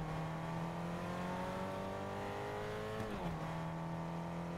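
Car engine in Fortnite hums steadily with rising pitch, then briefly dips and shifts gear before settling, continuous and close with no talking.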